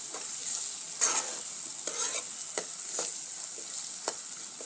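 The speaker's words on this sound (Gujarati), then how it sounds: "હવે આપણે થોડી વાર માટે આ મસાલાને તેલમાં ચડવા દઈશું" Spice masala with turmeric and red chili fries in hot oil, a soft continuous sizzle broken by several scraping stirs of a spoon, close and moderately quiet.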